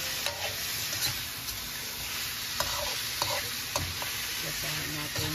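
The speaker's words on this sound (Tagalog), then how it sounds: "Halo-haloin natin." Papaya and moringa (malunggay) being stirred as they fry in a pan, a continuous hiss and sizzle broken by occasional clicks and scrapes of the spatula, close and without talk.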